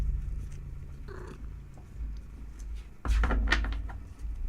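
A cat purrs softly up close during a live tarot reading, a low rumbling drone under small rustles and knocks, with a louder burst of handling noise partway through.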